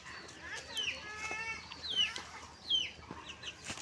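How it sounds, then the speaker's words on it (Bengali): Chinese ducks on a farm, several birds calling with short quacking and clucking squawks in a busy, fairly close run of overlapping calls. "এখানে মোট সাতটা হাঁস আছে"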